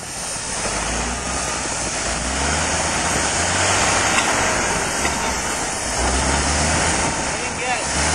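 A Nodwell tracked vehicle's engine runs loud and continuous at close range while the driver tries to shift into second gear, with a heavy, rough drone that rises slightly at moments.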